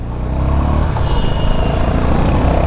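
Honda CB 350 motorcycle on a short test ride, its engine giving a steady, loud, even drone with road and wind noise throughout and no talking.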